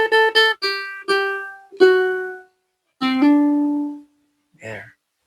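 Guitar measure played with hammer-on technique, plucked notes ringing in quick uneven bursts with a couple of legato slurs, then a held low note and a brief soft tail after a pause, close and clear.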